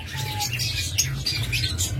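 Caged doves give short chirping and squawking calls against a low constant hum, close and busy, with no talk.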